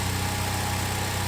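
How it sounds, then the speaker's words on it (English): A Ford Ranger's 2.3L EcoBoost engine idling cold, a steady, even mechanical hum with a low throb, close and continuous without any revving. "It's actually pretty quiet. Cold idle settled down there."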